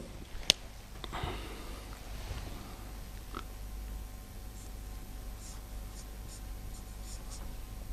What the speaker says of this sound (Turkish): Onları yazalım.